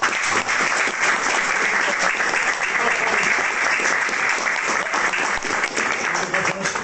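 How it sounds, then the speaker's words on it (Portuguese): Congregation clapping hands at a church preaching point in Parque Santo Antônio, with steady, dense applause that holds at even loudness throughout, close and continuous. "bate palmas"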